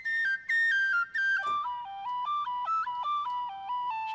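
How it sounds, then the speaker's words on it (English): A sampled tin whistle from the Project Sam Lumina library plays a legato line, with clear sustained notes that slide smoothly from one pitch to the next and step downward in a short phrase, heard solo. "The tin whistle legato is great, actually."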